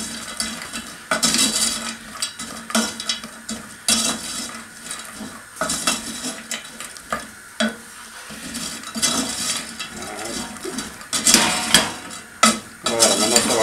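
Caramel heats and bubbles in a pan while being stirred, with steady scraping and clinking of the utensil against the metal and a soft sizzle underneath, close and continuous without talk.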